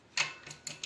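A bicycle through axle is loosened, producing a few quick, close mechanical clicks and ratcheting ticks.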